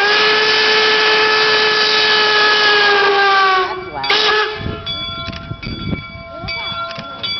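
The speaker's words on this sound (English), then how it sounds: "We're going to hear the whistle again." A train whistle at a historic railroad site tied to the Transcontinental Railroad sounds one long, loud, steady blast for about four seconds, then cuts off into rumbling background noise and scattered clanks.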